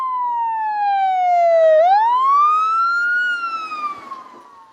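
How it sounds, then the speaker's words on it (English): A loud ambulance siren wails close by. Its tone falls, then sweeps up and holds, before fading out at the end. "In order for people to know we're coming, we need bright lights and a loud siren."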